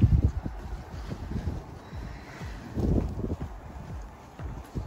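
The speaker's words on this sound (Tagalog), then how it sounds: "Malakas na yung hangin" Strong wind gusts buffet the microphone outdoors on a snowy spring day, producing rumbling low-end bursts that rise and fall unevenly throughout, with no talking.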